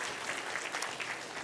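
Church congregation clapping in praise during a Korean worship service, a dense, steady wash of applause filling the whole moment with no voices over it.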